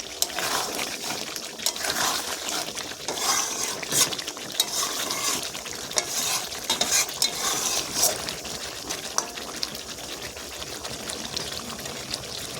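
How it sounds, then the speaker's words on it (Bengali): Chicken with garam masala is stirred in a pan for a coriander chicken dish, making continuous scraping and wet, sizzling stirring sounds with irregular clinks throughout. "গরম মশলা দিয়ে দেবো সামান্য মিক্স করে নেব গরম মশলা সব জায়গায় মিক্স হয়ে যায়"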